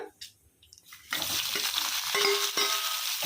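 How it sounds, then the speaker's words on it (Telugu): Sliced onion dropped into hot oil for a Telugu-style okra fry, a quiet start giving way at once to a loud, steady sizzle with a few stirring scrapes, close up and without talk. "ఇప్పుడు ఉల్లిపాయ వేస్తున్నాను అది వేగింది కదా"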